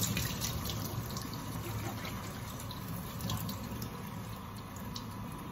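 Running tap water pours steadily into a steam iron's reservoir, a continuous soft splashing hiss at low volume.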